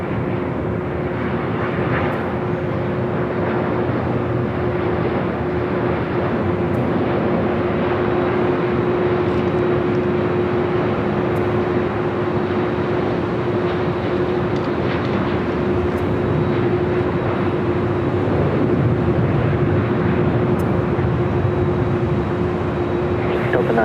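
An Asiana Airlines Airbus A350 at Los Angeles International Airport (LAX) sends out a loud, steady jet-engine roar with a sustained whine that holds for the full stretch without easing off.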